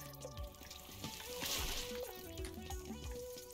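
Water sloshing and pouring from a bucket in the video game Out of Space, a faint liquid gurgle with light splashes under a soft musical game background.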